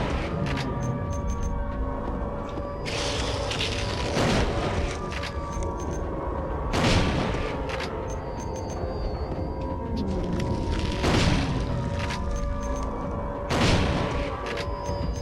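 Shotgun blasts from Silent Hill 2, four heavy booms at roughly even intervals, each followed by a pump action, over a steady game ambience with a constant hum and faint beeps.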